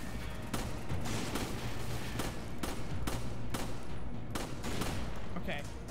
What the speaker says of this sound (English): But there's more shooting.